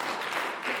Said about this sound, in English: Can we clap for that lady?